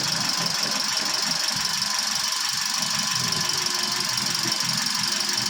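The air conditioning compressor of a 2022 Toyota Avanza runs with a steady, close mechanical whine and squeal over a low engine rumble, continuous and unchanging throughout.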